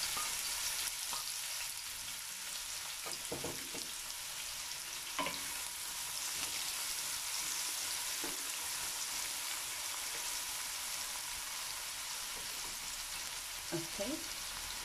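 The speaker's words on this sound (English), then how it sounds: "now you just give this a little quick simmer here in the oil" Chopped onions simmering in oil in a pan for a mince curry, giving a steady, fairly quiet hiss of frying that runs throughout, with occasional soft knocks and stirring sounds.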